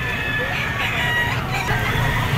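Chickens and roosters at a poultry auction market in Lipa, Batangas, a steady close chorus of clucking with crowing rising over it, filling the whole moment.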